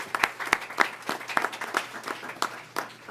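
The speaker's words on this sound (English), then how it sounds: "Y'all can applaud that," Scattered applause fills a school board meeting room: a modest group claps unevenly for about three seconds, with distinct individual hand claps, fairly quiet, and no one speaking over it.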